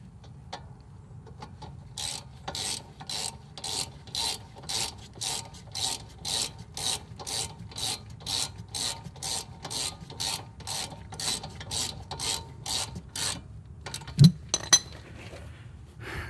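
A ratchet tightens the brake caliper bolt on a 1992 Honda Civic during a brake pad change, with a long run of evenly spaced, crisp clicks close up, followed by a couple of metallic clinks.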